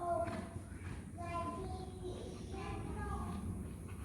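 A horse's hooves clip-clop at a trot during a Vaquero horsemanship riding lesson, rhythmic and moderately near, with a person speaking over the hoofbeats.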